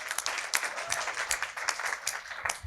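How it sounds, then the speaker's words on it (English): An audience at a visioning and strategy masterclass claps for a volunteer, a fairly quiet, uneven patter of scattered hands with a few sharper individual claps standing out. "All right, round of applause for him."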